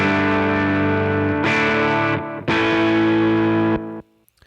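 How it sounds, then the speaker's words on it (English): A heavily distorted electric guitar, with distortion feeding into delay, rings out in long sustained chords, with a short break between them, then cuts off into silence. "you've got the distortion hits the delay"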